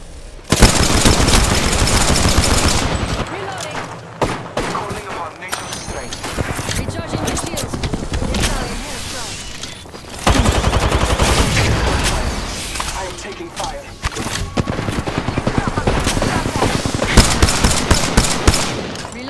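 Bursts of automatic and single-shot gunfire from an Apex Legends match rattle loudly, with rapid repeated reports and short lulls, while voices speak intermittently.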